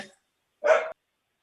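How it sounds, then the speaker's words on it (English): A single short dog bark or yelp rings out nearby in a quiet room, a faint trailing sound fading just before it. "I'm sorry about my dog."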